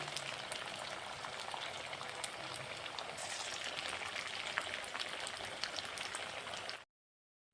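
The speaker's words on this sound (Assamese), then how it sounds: "গুটিকেইটা পকৰা ভাজি ল'ম" Steady crackling sizzle of potato pakoras deep frying in hot oil, dense popping and hissing that runs on without pause, then stops abruptly.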